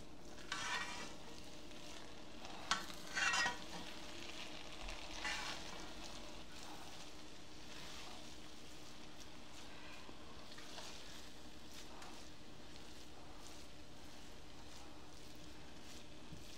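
A spoon scrapes and stirs fried chicken pulao in a covered pot after it has steamed on low heat. A few scraping strokes come early, then a soft, steady hiss of the pot continues alone.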